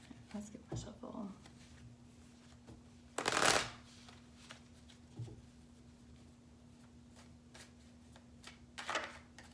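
Tarot cards being shuffled by hand, soft riffling bursts with one louder, longer shuffle in the middle, faint and close, between pauses.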